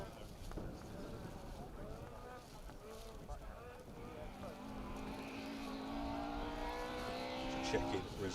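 Rally car on a forest stage of the Woodpecker Rally, its engine rising steadily in pitch as it approaches and passes, growing louder toward the end, with wind noise and a commentator talking over it.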